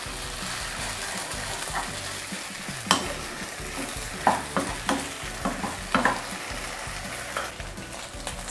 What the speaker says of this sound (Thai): เสร็จแล้วก็ผัดทุกอย่างรวมกันเลยค่ะ